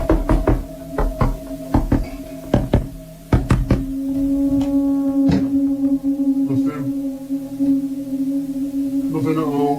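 Loud, sharp knocks repeat in uneven clusters during a paranormal investigation, close and percussive, then give way to a steady droning tone with faint further taps.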